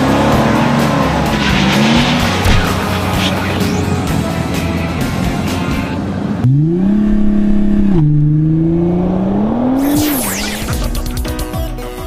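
A 2013 Mazda CX-9 SUV driven off-road on dry trails in the Colorado Rockies, its engine loud and close, revving up and down through shifts, with tire noise and no voices.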